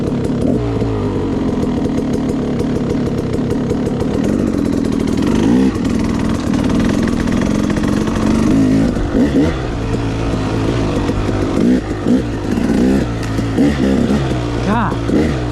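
A 2016 KTM 300 XC two-stroke dirt bike engine revs and pulls continuously, a loud close buzzing drone that rises and falls with quick throttle blips throughout.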